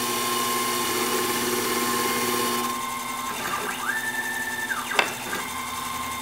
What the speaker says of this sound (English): you'll hear that for a while until we get the gear into a rounded shape